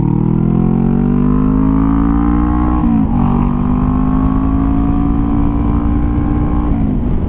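A Honda CBR 500R motorcycle engine revs hard and steadily, loud and close, with a brief dip in pitch partway through as a gear changes, then holds a strong, rising drone with no talk.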